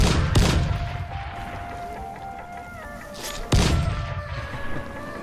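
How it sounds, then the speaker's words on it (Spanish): Explosions in the video game Dying Light, two sharp loud booms a few seconds apart, each followed by a rumbling tail over steady game ambience with no talking. "Oye, las explosiones son una mierda."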